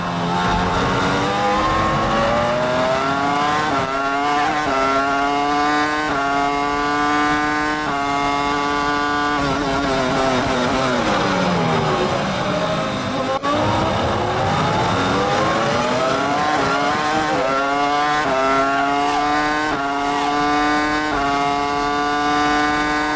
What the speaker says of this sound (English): Sounds on board that BMW engine, revving awesome.